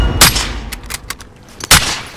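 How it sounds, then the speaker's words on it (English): Rapid gunfire in Call of Duty: Modern Warfare, with several sharp, loud bursts spaced unevenly, the strongest near the start and again toward the end, against a low background rumble. "You got a little machine gun for your ass."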